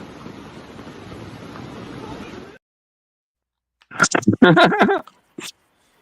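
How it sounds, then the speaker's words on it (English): Heavy rain pounds a tent in the West Virginia woods as a dense, even hiss for about two and a half seconds, then cuts off abruptly. People then talk in the quiet that follows. "It's fucking raining harder"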